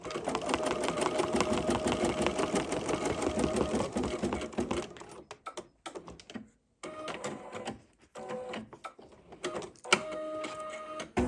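An embroidery machine runs rapid basting stitches to hold fabric in the hoop, a fast mechanical chatter that runs steadily at first, then breaks into short stop-start bursts with brief pauses between them.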